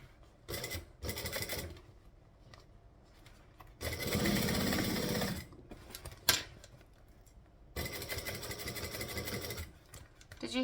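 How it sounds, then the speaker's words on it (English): A sewing machine stitches a Celine by Swoon bag, running in several short bursts with pauses between, the needle passing over a squished bag part with barely any change in its rapid, close mechanical chatter. "It barely registered a different sound when stitching over that thing because I squished it"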